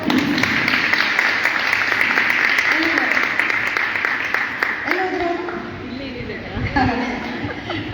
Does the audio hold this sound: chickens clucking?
no